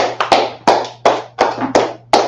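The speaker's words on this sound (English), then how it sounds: "clap it up for the class" Clapping at a live online class: about seven sharp, evenly spaced claps at a brisk steady rhythm, close and loud, over a low electrical hum.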